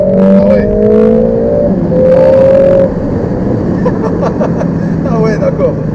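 Mercedes A45 S four-cylinder engine accelerating hard, a loud rising engine roar that swells and then settles into a steady drone, heard under people talking in the cabin.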